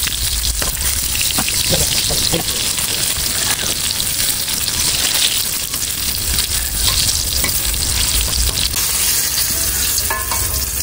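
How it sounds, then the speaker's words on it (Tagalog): Eggplant slices fry in a pan with a steady, loud, broadband sizzle and crackle that holds evenly throughout, with occasional stirring scrapes and no voices. "Ako po ngayon ay magpiprito naman po ng mga talong"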